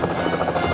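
A cartoon helicopter's rotor from Thomas & Friends whirs in a steady, dense, fairly loud blur throughout a brief moment, with no talking.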